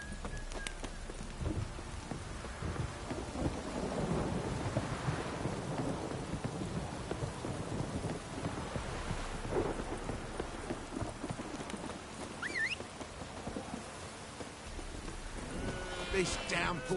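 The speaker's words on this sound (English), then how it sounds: "This downpour's a bastard, it is." Heavy rain pours steadily through a stormy scene in The Witcher 3: Wild Hunt, with rolling thunder swelling midway and hoofbeats faintly beneath the downpour.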